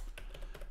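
Brief typing on a computer keyboard, a handful of soft keystrokes in quick succession, close and quiet.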